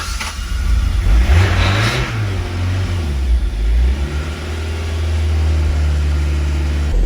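A Toyota MR2 MK1 engine revs up and pulls away on a road drive, loud and close, with rising and falling engine pitch as it accelerates, then settles into a steady drone.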